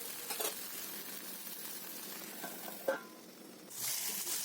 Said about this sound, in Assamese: এতিয়া এইখিনি অলপ টাইম এনেকে ভাজি থাকিম।